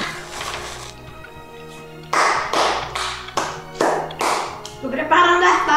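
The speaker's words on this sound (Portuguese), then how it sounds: "Isso, prepara as palmas. São 500 mil palmas aí." Clapping at a birthday party sounds in several loud, uneven bursts of hand taps at close range, mixed with voices and brief pauses in between.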